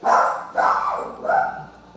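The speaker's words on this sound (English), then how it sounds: "Dogs are going" Dogs barking indoors in a few loud bursts, one after another, with a short pause between them, nearby and without any voices over them.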